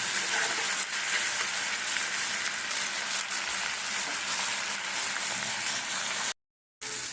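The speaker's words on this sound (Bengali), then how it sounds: "দেখো পেঁয়াজ আর টমেটো ভাজা হয়ে গেছে" Onions and tomatoes fry in a pan with a light pinch of salt, giving a steady, close sizzle with soft crackle throughout, briefly cut off near the end.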